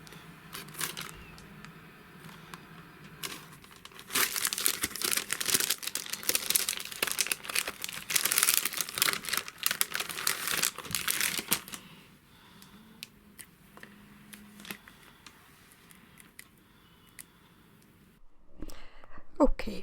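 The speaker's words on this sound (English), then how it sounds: "I left the crinkling of the packaging in there just as a good kind of sound effect." Plastic packaging crinkles and rustles in busy bursts while artwork is made on a textured background, fairly close and moderate in level, then thins to sparse small crackles near the end.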